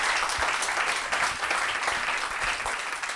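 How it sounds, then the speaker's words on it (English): A panel audience at an evening event on women in media breaks into sustained applause, a dense, steady wash of many hands clapping at close range with no voices over it. "please join me in a round of applause for them"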